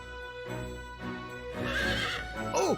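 Horse neighing in the video game Fire Emblem Warriors: Three Hopes, a loud whinny rising and falling near the end, over steady background game music with no talk.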